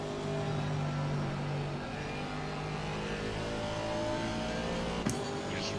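A car engine drones steadily from a racetrack, its harmonic tone holding and shifting a little, with a brief knock near the end and no one talking.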